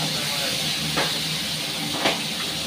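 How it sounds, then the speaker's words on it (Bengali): Fish frying in a pan, a steady loud sizzle and hiss throughout with two brief louder spits of oil. "মাছটা আমার একটু ভালো করে ভেজে নেব।"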